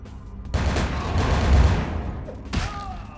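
Gunfire in Vampire: The Masquerade – Bloodlines, a dense, loud burst of shots running almost continuously for about two seconds, then a brief pause and one more sharp blast near the end.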